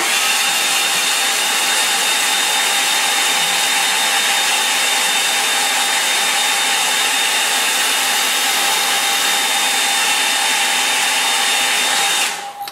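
A hair dryer blows steadily and loudly on a watercolour painting, a constant whooshing whine that runs unbroken before cutting off abruptly at the end.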